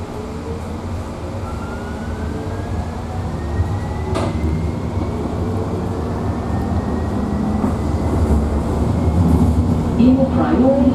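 A rail car rumbles steadily and builds as it gathers speed, with a rising electric motor whine and faint clanks over the continuous roar.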